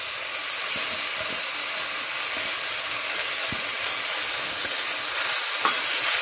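Thankuni leaves with chili powder sizzling in a hot pan as they are stirred, a steady, bright frying hiss with faint scraping taps throughout and no talking.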